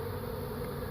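A steady insect-like buzz from honeybees swarming around a hive where an arriving swarm fought other colonies, continuous and moderately close, with no voices.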